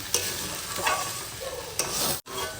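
Leftover khichuri reheating in a pan, with a loud, close sizzle and a few quick spoon scrapes as it is stirred, ending in a short break.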